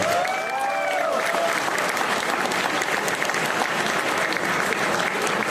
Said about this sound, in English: Can you have a loudest round of applause?